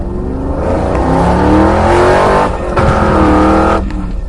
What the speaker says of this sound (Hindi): तभी वहाँ पर किसी की गाड़ी की आवाज सुनाई देने लगती है